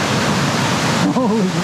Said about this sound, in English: There's so much water down there.